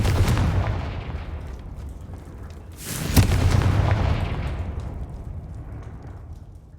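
A Confringo fire spell explodes in the Hogwarts Legacy video game, a loud booming blast rolling out at the start and a second heavy burst midway that fades into a long rumbling tail.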